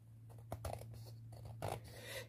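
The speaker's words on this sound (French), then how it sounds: "je vais couper ce qui dépasse avec les ciseaux" Scissors cutting album cover paper, two or three brief close snips and rasping strokes over a steady low hum, with no talk.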